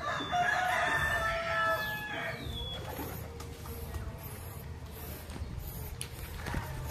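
A rooster crows once near the start, a rising then sustained call with harmonics, followed by quieter outdoor ambience with faint clucks and rustling; no talking.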